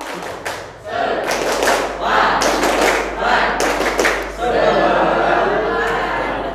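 A group performs the 'tepuk semangat' clap together, sharp rhythmic hand claps in quick bursts with shouted voices mixed in, close and loud, like a lively youth gathering.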